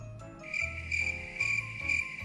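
Crickets chirping close and steady, a high, bright pulsing trill repeating in rhythmic bursts, alone with no talk over a low background hum.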